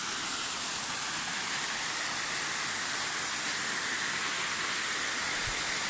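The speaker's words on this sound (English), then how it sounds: "And now there's a bit of a waterfall." A small waterfall on a mountain trek near Jardín, Antioquia, Colombia, pours in a constant broadband rush of falling water, close and loud, with no voices over it.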